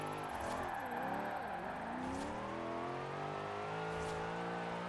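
Supercharged Australian saloon car on race tires in Forza Horizon 4, its engine droning and revving steadily at moderate loudness with rising and falling pitch as it drives uphill.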